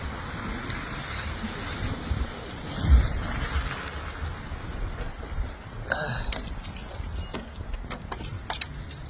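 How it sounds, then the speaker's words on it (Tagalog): Steady broadband wind roars throughout during snowfall, with gusts and a few brief clinks and rustles close by; no talking. "Grabe, lakas ng hangin."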